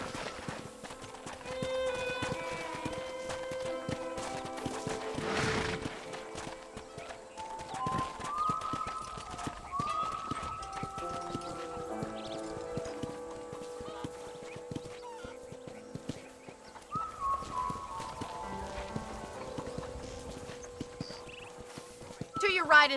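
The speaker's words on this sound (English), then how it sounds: "I picked out a fine horse for you" Horse hooves clip-clopping at a steady walk in Red Dead Redemption on PS3, a rhythmic close patter under scattered farm-animal calls, with someone talking over much of it.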